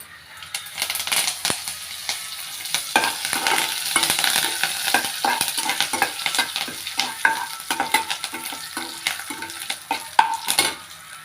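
Crushed onions and curry leaves fry in a pan for a chutney, a busy crackling sizzle with frequent scraping and clattering stirs throughout, no voices.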